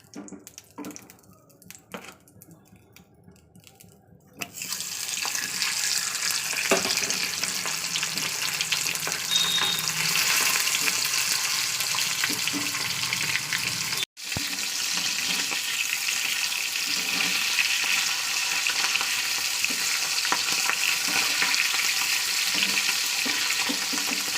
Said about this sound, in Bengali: চলুন প্রথমে এই দুটো মাছ ভাজা করে নিই